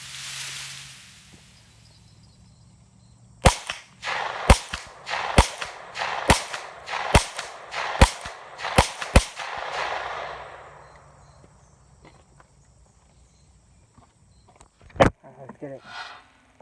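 Gunshots crack at an outdoor shooting range on a quiet day, about nine sharp, loud shots in a fairly even series, then a pause before one more, with faint echoes trailing.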